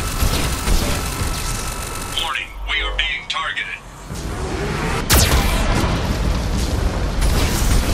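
A cannon shot explodes with a deep boom in the Mass Effect 2 game, a sharp burst landing mid-clip amid rumbling mechanical game noise, with a person talking throughout.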